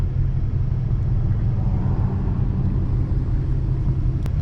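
A Ford Mustang on a city street gives off a steady low engine rumble with road noise, continuous and fairly loud, with no one speaking over it.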